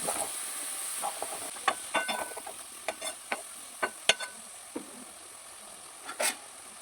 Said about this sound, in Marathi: मसाल्यामध्ये चांगलं मिक्स करून घ्यायचं आहे